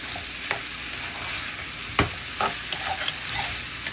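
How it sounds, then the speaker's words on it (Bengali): Dried fish (shutki) frying in a pan and being stirred steadily, with a continuous close sizzle and a few sharp scraping clicks of the utensil against the pan. "যতক্ষণ পর্যন্ত বোনা বোনা ভাব না আসবে ততক্ষণ পর্যন্ত এভাবে নাড়তে হবে"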